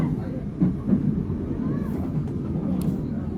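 Steady low rumble of a KA Pangrango passenger train riding the Bogor–Sukabumi line, heard from inside the carriage with a continuous rolling drone, faint rail knocks and brief louder bumps near the start.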